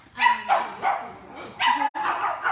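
A young female puppy gives a series of short, high, yappy barks close by, several bursts in quick succession with brief gaps between them.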